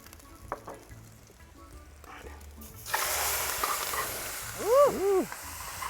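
Pork sautéing with amchur and jeera powder in a hot pan, a steady broadband sizzle swelling louder partway through, with faint voices in the background and a brief tonal chirp near the end.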